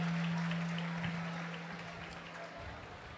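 An audience in a church claps faintly at a Holy Mass during the 76th annual pilgrimage, a soft, sustained patter of applause over a low electrical hum that fades slightly toward the end.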